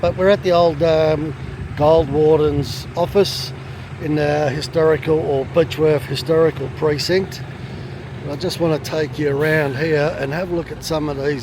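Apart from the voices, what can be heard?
truck pulled up nearby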